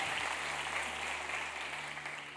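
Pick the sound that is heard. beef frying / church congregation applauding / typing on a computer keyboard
church congregation applauding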